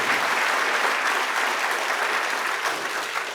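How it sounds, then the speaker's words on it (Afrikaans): Steady, dense audience applause following a speech, a loud continuous wash of clapping that holds evenly for the whole stretch and tapers only slightly at the end. "Kom ons gee vir hulle 'n hande klap"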